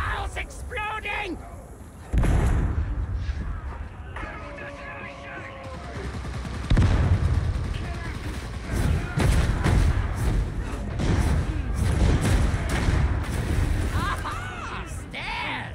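In a video game, a ship's bow explodes amid a barrage of thuds, gunfire-like bursts and heavy blasts, with people talking excitedly over the chaos.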